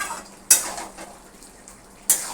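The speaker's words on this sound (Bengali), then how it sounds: "এবার 1 চামচ ভর্তি করে ঘি দাও, দিয়ে ভালো করে নাবিয়ে ঘিটাকে ভালো করে মিশিয়ে দাও।" Ghee is stirred into a pan of jackfruit and pea curry, with two sharp metal spoon knocks against the pan and soft scraping, stirring sounds between them, close and with no talking.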